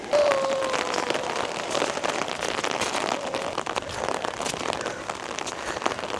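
Steady rain patters across a rural homestead where chickens roam outdoors, a dense continuous hiss with scattered sharper drops, fairly close and unbroken by voices.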